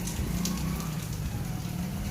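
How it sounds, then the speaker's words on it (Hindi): Steady rain falls with a dense, even hiss and low rumble, continuous and fairly close, no voices. "और बारिश रुकने का इंतज़ार करेंगे।"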